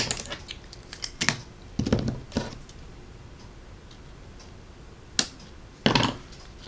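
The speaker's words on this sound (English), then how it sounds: "Paper snips." Paper snips cutting paper at a craft table: a handful of sharp, scattered snipping clicks with gaps between them, close but faint over a quiet room hiss.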